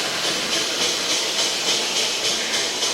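Steam locomotive chuffing from an MRC Sound & Power 7000 sound unit on an OO gauge model train, a loud hissing exhaust beat repeating rapidly and evenly at close range with no voice.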